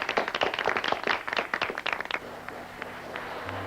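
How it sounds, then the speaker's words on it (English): Applause breaks out in a restaurant, a burst of many hands clapping fairly close for about two seconds, then thinning to scattered claps over a low steady hum. "Jake, what's all that applause?"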